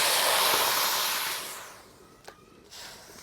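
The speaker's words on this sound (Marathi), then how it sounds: "कढईमध्ये पाणी टाकून घेऊ" A loud steamy hiss of water hitting a hot wok while making syrup for puffed-rice laddoos, fading over a second and a half, followed by a couple of faint clinks.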